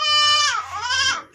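Backyard pet goats in their pen give a long, wavering bleat that rises and falls in two drawn-out pulses, loud and close over a low background hum.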